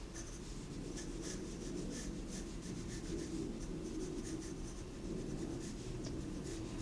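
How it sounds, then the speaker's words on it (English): A pencil sketching on paper, a soft continuous scratchy rubbing of graphite with quick repeated strokes, close and quiet, with no voices. "So I'm going to quickly sketch this."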